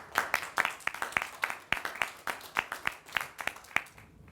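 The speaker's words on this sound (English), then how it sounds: "let's give them a round of applause" A small audience at a university investment challenge presentation gives sparse applause, a handful of distinct, uneven claps close by over a few seconds, in a quiet room.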